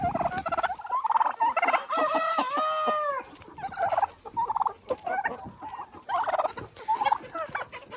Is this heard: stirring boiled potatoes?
no